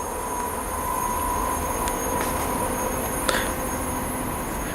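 Train rolling through Linlithgow station, a steady broad rumble of wheels on rail with a faint high squeal and a brief clank near the end, close and continuous, no talking.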